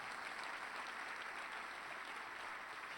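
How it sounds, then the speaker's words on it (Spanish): Steady applause from a church congregation, a dense even patter of many hands clapping, fairly faint and continuous. "Ese aplauso no tiene ánimo."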